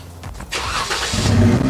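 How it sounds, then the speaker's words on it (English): A Jeep Wrangler engine cranks and catches, a brief starter whirr giving way to a steady low idle rumble that holds close and fairly loud. "you might have to start the vehicle."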